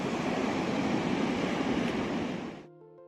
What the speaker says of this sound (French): Je ressens vraiment la force de la nature avec le vent et les vagues qui s'écrasent bruyamment.